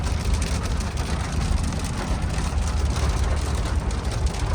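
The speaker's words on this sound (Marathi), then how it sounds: "लागला पाऊस उन्हामध्ये." Steady hiss of sun-shower rain drumming on a surface, with a low continuous rumble underneath, like rain heard from inside a moving vehicle.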